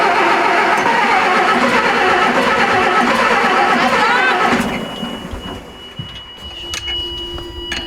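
Engine of the lake boat Fribourg turning over after the key is turned: a loud, dense mechanical churning for several seconds that cuts off abruptly, leaving quieter hum and scattered clanks, with talk in the background.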